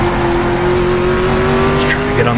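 A 1966 Ford GT40 power slides in the racing game GTR2, its engine droning loud and steady with a whining tone as the tires squeal and scrub toward the end, and a voice talks over it.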